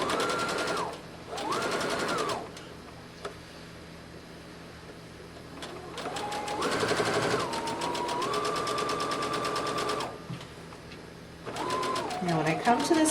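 A sewing machine stitches an 18-inch doll's dress in several separate bursts, close and fairly quiet, starting and stopping with pauses between runs.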